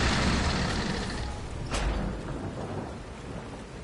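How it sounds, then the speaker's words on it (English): Rain and thunder on a night level of the action game Lies of P: a loud roll of thunder with a sharp crack near the middle, over a steady heavy rain hiss that fades slightly. "Rainy night."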